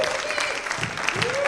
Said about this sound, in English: Alright, round of applause for Steve, please, everyone.